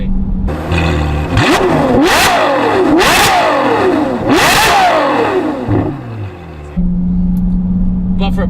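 A Ferrari F12 Novitec N Largo engine revs hard and loud, rising and falling in three or four sharp, rasping climbs over a steady idle that drops briefly before settling back.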